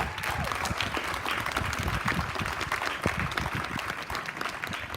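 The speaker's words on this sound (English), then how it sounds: "how about a round of applause for those folks?" Audience applause at a hospital's 65th anniversary celebration ceremony, steady and sustained crowd clapping filling the whole stretch at moderate level, with faint murmuring underneath.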